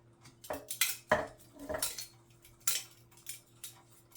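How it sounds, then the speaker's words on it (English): Chicken and its juices go back into a crock pot, heard as a series of close clinks and knocks of a utensil against the pot, with wet slides between, irregular and separated by short quiet gaps. "I'm gonna put this all back into my crock pot"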